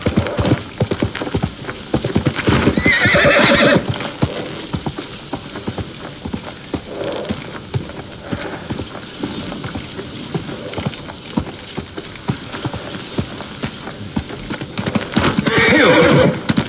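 A horse in Ghost of Tsushima gallops with a steady, dense clip-clop of hooves and gives loud neighs near the start and end, with a rain-like hiss running underneath throughout.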